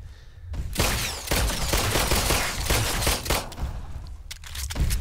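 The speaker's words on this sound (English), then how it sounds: "You can just spam the pistol a lot more now." Rapid pistol fire in the VR shooter The Brookhaven Experiment, a loud close burst of quick repeated shots running almost the whole time, pausing briefly near the end before another shot.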